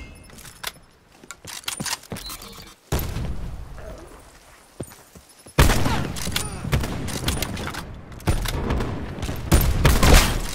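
Enemy sniper fire in a video game: sharp shots crack out in irregular bursts amid loud booming impacts and clattering, growing denser and louder toward the end.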